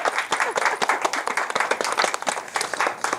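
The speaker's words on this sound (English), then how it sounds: "Give him a round of applause" A crowd claps to welcome Keyshawn Scott onto the stage, with sharp, close, uneven hand claps coming fast and loud for about three seconds.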